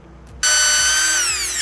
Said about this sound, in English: I'm going to use my drill to mark one of the holes